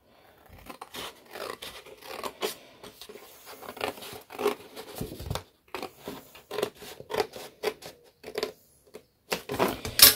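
Scissors cut paper along a drawn line in a string of close, crisp snips and rustles, irregular and separated by short pauses.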